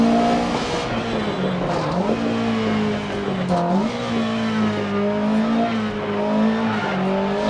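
A light Alpine berlinette rally car in DiRT Rally on PC drives hard, its engine droning loud and close, with pitch rising and dipping through revs and gear changes.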